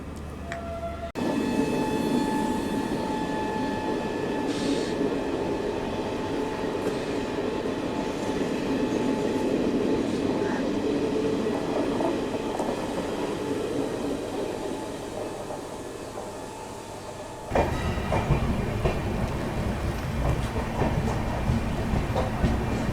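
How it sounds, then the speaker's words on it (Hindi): The Ranchi Garib Rath express overtakes at Prayagraj Chheoki Junction, a loud continuous rumble and rattle of passing coaches close by with rhythmic wheel clatter, shifting in tone near the end. "रांची गरीब रथ हम लोगों को ओवरटेक मार रही है प्रयागराज छुपकी जंक्शन पर"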